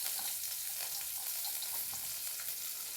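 Food cooking in a light amount of mustard oil in a pan, giving a steady close hiss of sizzling with faint scraping and stirring clicks throughout, loud and continuous with no voices.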